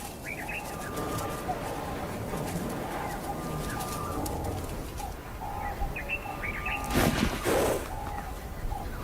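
Oxpecker birds call around buffalo in the African wild, giving short repeated chirps over a dense, steady hiss of background ambience.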